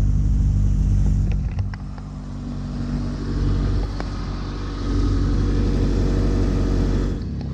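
A 2007 Toyota Camry engine revving hard, a loud, rough, close rumble that dips briefly and then surges again, with some rattling clicks.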